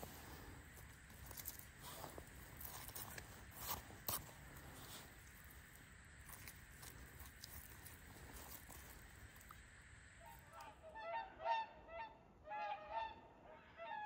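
Geese honk by a pond in a former German village, near and far calls rising toward the end over a faint outdoor hiss and light handling noise.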